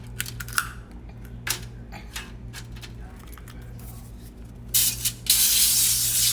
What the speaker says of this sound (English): make sure you spray the rack first with the olive oil spray.